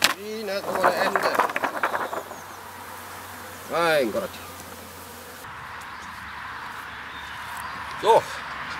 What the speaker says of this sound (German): Bienen ohne Ende.